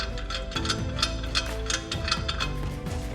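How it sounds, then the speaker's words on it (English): A ratchet wrench clicks in quick, uneven bursts while loosening a lug nut on a Dodge Charger during a brake job, close and crisp with rapid pawl ticks and short pauses between strokes. "take the lug nut off."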